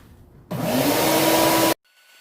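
Bauer sliding miter saw cutting a stack of 2x4s with its dust collection attached, a single loud whining burst of a little over a second that starts and stops abruptly, with quiet before and after.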